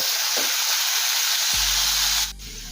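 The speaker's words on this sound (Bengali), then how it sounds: "আলুটা লাল লাল করে ভেজে নেব" Potato pieces frying with turmeric and salt for ghugni, a loud continuous hiss of hot oil up close that cuts off abruptly just before the end.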